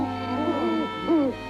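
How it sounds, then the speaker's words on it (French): A cartoon owl hoots in a forest, two drawn-out wavering hoots, the second shorter, loud and close, with no talking during the calls. "Oh, ben c'est seulement un hibou."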